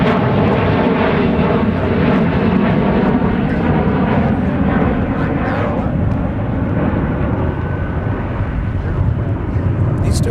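A diverted jet airliner arriving at Minneapolis–St. Paul airport, its engines a loud, steady broadband roar that fills the whole stretch, with excited plane spotters talking in the background.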